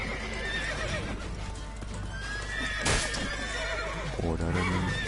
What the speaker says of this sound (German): Nur die armen Pferde.